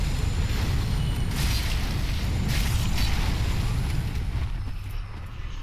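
A fireball explosion from Dark Souls 3 booms as a deep, rumbling roar that fills the space, then fades slightly toward the end, with no talk over it.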